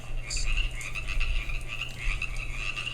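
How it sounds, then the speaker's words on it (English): Red-legged frogs and chorus frogs calling in thick brush: a dense, continuous chorus of high-pitched croaks layered over lower calls, steady and close throughout. "I just heard a red-legged frog"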